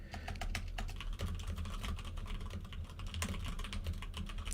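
Rapid, steady clatter of keys being typed on a computer keyboard, close up and continuous over a low background hum, with no talking.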